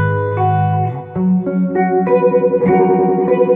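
An electric guitar runs through an effects pedal with adjustable speed and a slight delay. Sustained chords pulse with a modulation that slows and then picks back up, and the sound is loud and continuous with no voice.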